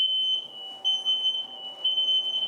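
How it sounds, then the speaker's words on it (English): Household smoke alarm going off in a kitchen, a shrill piercing beep repeating in a steady pulsing pattern, loud and close, with no talking. "at least we know our, Yeah, our fire or our smoke alarms work"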